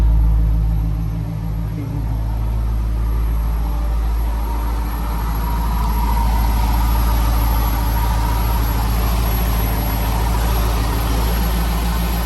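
A Corvette ZR1 LT5 V8 engine idles nearby after an injector change, with a deep, steady rumble and slight lope, running continuously and fairly loud with no talking.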